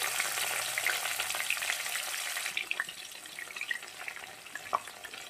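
Onion fries in a pan, making a dense, steady hiss close up, with scattered pops and a few stirring clicks toward the end.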